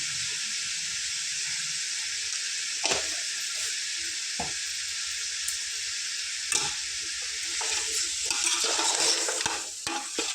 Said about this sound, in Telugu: ఇందులోనే ఒక వన్ కేజీ చికెన్ వేసుకొని ఇది ఒక టెన్ మినిట్స్ దాకా చక్కగా నూనెలో ఫ్రై చేద్దాం